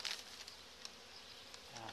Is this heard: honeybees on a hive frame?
yes